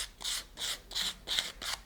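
A delicate painted piece, finished to imitate iron, is sanded by hand: five even rasping strokes in a steady back-and-forth rhythm, close and fairly soft.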